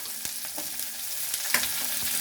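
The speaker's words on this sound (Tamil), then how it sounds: "வடச்சட்டியில் எண்ணெய் ஊற்றிருக்கிறேன். இப்போ வந்து வெங்காயத்தை போட்டு வணக்கிக்கணும் நல்லா." Onion frying in oil in a kadai, a steady close sizzle with a few sharp crackles and pops.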